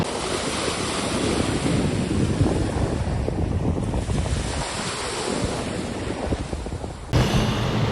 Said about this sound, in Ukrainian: я трішки просто познімала сам океан, атмосферу і вам зараз покажу, як взагалі все це виглядає